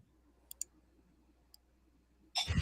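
A computer mouse clicks sharply a few times, faint and close in a quiet room, with a louder rustling burst at the end.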